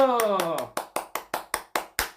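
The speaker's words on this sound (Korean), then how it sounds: "박수!" A church congregation breaks into clapping at a sermon's start: a voice speaks briefly, then about seven sharp, evenly spaced claps ring out in a steady unison rhythm, close and clear.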